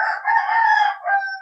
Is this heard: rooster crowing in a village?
yes